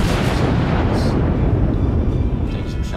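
Battleship main guns fire in the World of Warships naval game, heard as a loud, continuous rumbling roar of heavy booms blending together under a voice.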